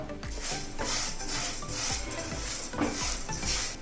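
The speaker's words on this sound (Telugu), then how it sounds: "వీటన్నిటిని మరొకసారి దోరగా వేగనిద్దాం పైనలో ఒక్క స్పూను నూనె వేసుకొని మరొక్కసారి వేయించుదాం" Peppercorns and dals dry-roasting in a pan with a spoon of oil, with steady scraping and stirring from a spoon against the metal and soft rattling of the seeds, close and continuous without talk.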